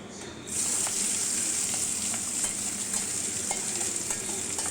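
Chopped onions sizzle steadily in hot oil over tempered black cumin, starting after a brief quiet moment and continuing loud and close with occasional light taps of stirring.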